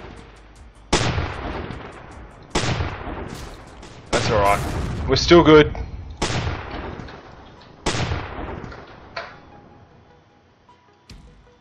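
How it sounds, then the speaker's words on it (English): Cannons firing in the Roblox game Build a Boat for Treasure: about six sharp booming blasts spaced a second or two apart, each with a decaying tail and a crunchy impact burst mid-sequence, with brief talk between them. "There's cannons, we're getting hit."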